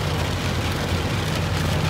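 Heavy rain falls outdoors on a farm during the first big rain after a dry summer, a dense, continuous hiss of drops with a low rumble underneath and no voices.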